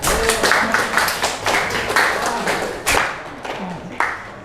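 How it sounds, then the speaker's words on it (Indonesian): A small group claps unevenly for a few seconds, with scattered louder claps and some voices in the room. "tepuk tangan untuk Andika."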